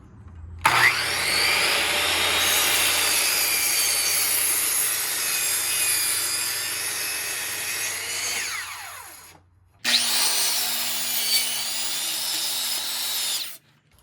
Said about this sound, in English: Now for this piece, you're going to make a 45-degree cut on each end.